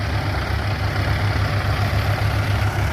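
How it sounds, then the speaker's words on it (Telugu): A Mahindra 575 DI XP Plus tractor engine runs in second load gear, a loud, close, steady diesel thrum with an even low pulsing beat throughout, no voices. "ఇప్పుడు ట్రాక్టర్లో వచ్చేసి లోడ్ గేరు సెకండ్ గేర్లలో రాబోతున్నాయి"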